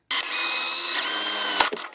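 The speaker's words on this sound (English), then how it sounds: "if my goal is to drill a uncentered hole, I succeeded." A power drill bores an uncentered hole, giving one steady, loud whirring run of nearly two seconds that dips briefly and then winds down at the end.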